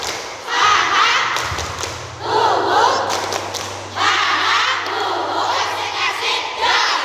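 A group of children loudly performs the tepuk semangat clapping chant during an ice-breaking session, bursts of shouted chanting and thumping claps repeating in rhythmic waves.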